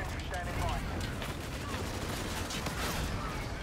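Gunfire in the shooter game Call of Duty: Infinite Warfare plays as a dense burst of rapid shots and sustained automatic fire under a voice speaking, fairly quiet in the mix.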